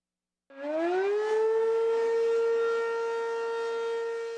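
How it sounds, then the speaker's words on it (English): A tornado warning siren starts abruptly, rises in pitch, then holds a loud, steady wail that continues unbroken. "Tornado sirens mean severe weather is brewing in the skies."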